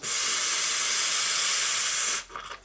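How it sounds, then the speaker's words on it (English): Live steam injector on a model boiler hissing loudly and steadily as the steam valve opens, a broad continuous rush that cuts off abruptly near the end, leaving faint sputtering. "I ran the water to cool the injector, then I opened the steam valve, and it really was trying"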